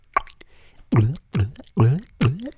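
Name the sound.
opening a bottle and pouring a drink near microphone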